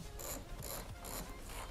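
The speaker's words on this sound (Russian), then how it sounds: "Нужна длинная головка, чтобы открутить гайки, потому что болт высокий." A socket wrench takes the nuts off the bolts of a wooden crate holding a Bajaj Dominar 400 motorcycle. It gives close, repeated ratcheting clicks in regular bursts with a rough scraping of wood under them, and there is no speech.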